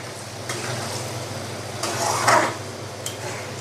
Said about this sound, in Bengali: বরবটিটা ভালো করে কষিয়ে নিব